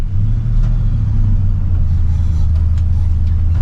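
A truck engine rumbles loud and low right up close while the driver shifts through the gears, a steady heavy drone with faint mechanical clicks on top.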